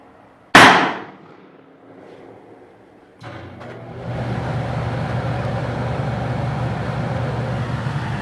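A single sharp handgun shot cracks out at a target during a dot torture drill at about 21 feet, decaying quickly, and then steady roadway traffic noise rises in the background.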